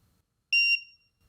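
A cheap metal detector gives a single loud, piercing electronic beep lasting about a quarter second and then trailing off, surrounded by near silence.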